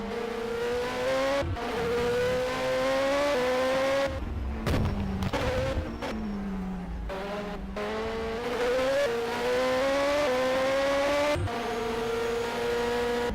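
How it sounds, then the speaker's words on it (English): A race car at the 2013 Austin Sprint Grand Prix drones past with a sustained high-pitched engine whine that shifts in pitch through gear changes and brief lifts, fairly close and continuous, with no talk over it. "Is that a car in the distance?"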